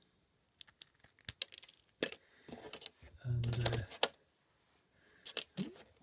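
Scissors snip several times close by, sharp crisp clicks in an uneven rhythm with some rustling handling noise and a brief spoken word.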